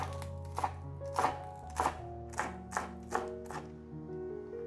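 A knife chops celery on a cutting board in a steady series of about eight sharp, close strikes spaced roughly half a second apart, with a faint background hum and no talk.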